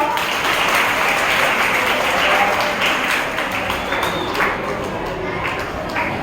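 A school audience at a Marathi Language Day program for students from other states claps for the children's prizes, loud and sustained. A voice talks underneath.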